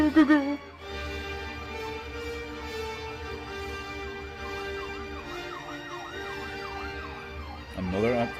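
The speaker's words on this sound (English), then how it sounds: "that's a fire truck, not an ambulance." A fire truck siren wails continuously at moderate distance, its rising and falling sweeps repeating steadily and louder toward the end, with a voice briefly heard at the start.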